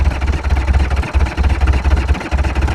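A backhoe engine runs at a low, steady idle, a loud close rumble with a pulsing rhythm and a couple of brief dips.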